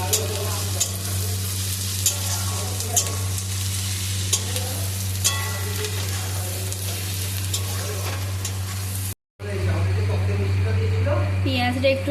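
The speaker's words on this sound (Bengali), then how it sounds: "নুনটাকে দিয়ে নাড়াচাড়া করে নিচ্ছি" Onions with salt frying in oil as a spoon stirs them around the pan, continuous close sizzling with repeated scraping strokes and a low hum, broken by a short gap before the frying resumes.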